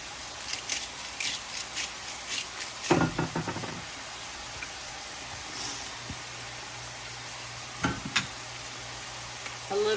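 Garlic sizzles in a hot pan as a soft, steady frying hiss, with clinks and knocks of a utensil stirring near the start and again later, close by.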